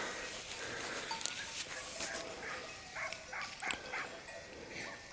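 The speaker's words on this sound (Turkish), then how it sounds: "Amcamın köpekleri orada." Faint dogs bark a few times in the distance over steady outdoor background noise.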